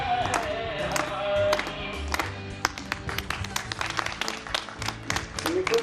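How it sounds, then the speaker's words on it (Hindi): Neighbours on balconies and police clapping to welcome a newly married couple outdoors, scattered rapid claps at mid distance mixed with music and some voices. "बालकनी पर खड़े सभी पड़ोसियों ने भी न्यू कपल का तालियों से जोरदार स्वागत किया"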